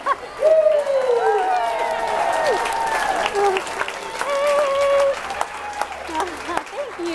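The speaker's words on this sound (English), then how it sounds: "They're clapping for Aaron." Crowd applause and cheering at a southern spring home and garden show, with clapping beneath whoops and high calls from people nearby, plus a voice talking over it.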